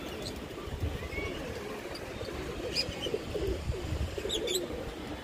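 Pigeons flying over a rooftop, soft cooing and a few faint chirps over a low steady background hum, modest in level and without voices.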